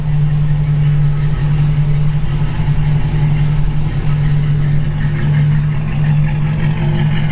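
A 1953 Buick Super Convertible Model 56C, with its first-year V8 and a two-into-one single exhaust, runs at a steady idle close by, producing a loud, even, low rumble throughout.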